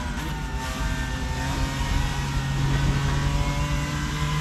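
A race car engine in the Assetto Corsa driving game, on the Nordschleife circuit, holds a loud, steady high-revving drone with sustained tonal harmonics throughout, with no speech over it.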